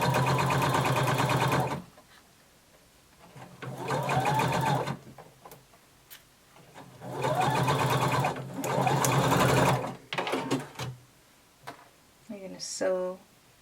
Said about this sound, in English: we're going to sew across the shoulder using a 5/8 of an inch seam allowance